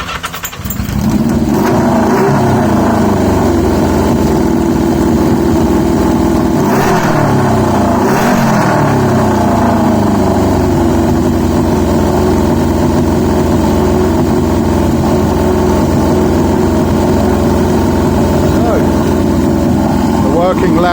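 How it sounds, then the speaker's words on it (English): A 1980 Yamaha XJ650 motorcycle idles loudly, steadily and close by, a deep continuous rumble with a brief rev near the start, running the whole time. "Loud bike that idles."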